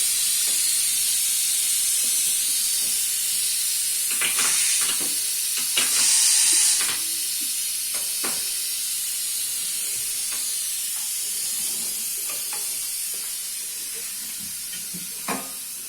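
A pressure cooker in a home kitchen releases steam with a loud, steady hiss that runs throughout, broken by a few brief clanks and knocks, while Pakistani dishes are being cooked.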